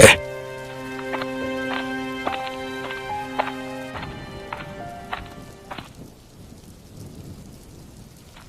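Rain falls in a Bangla cartoon scene. A steady hiss of rainfall takes over after a sustained musical chord, then thins out toward the end.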